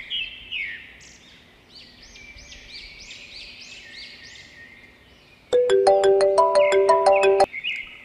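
A phone rings during an outgoing call, loud and close: after a few soft chirping tones comes a bright, repeating electronic melody of quick notes that plays for about two seconds and then stops.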